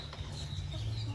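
Free-range village chickens roam an avocado orchard, a short soft clucking call rising briefly over steady low background hum, with no other voices present.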